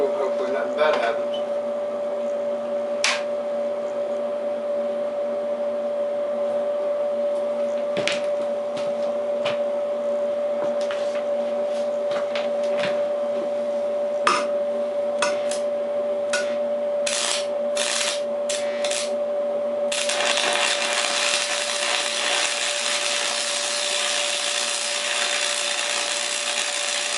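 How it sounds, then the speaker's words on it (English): A Lincoln welder set around 75 amps hums steadily while welding a small scrap piece of metal, with scattered crackles and pops, and a louder sizzling burst toward the end. "that is a smooth running welder."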